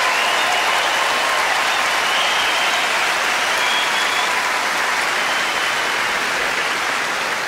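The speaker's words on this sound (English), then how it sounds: "a special round of applause for core bandmaster Ivan Hutchinson" A large concert audience at a Royal Marines bands music festival claps in a sustained, dense roar of many hands, loud and even from start to finish with no voices on top.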